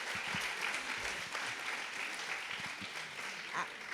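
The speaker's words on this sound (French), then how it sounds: "Des applaudissements." Sustained applause from an audience at a conference event on peace and security in Normandy, a dense, even wash of many clapping hands at steady volume throughout, with faint voices underneath.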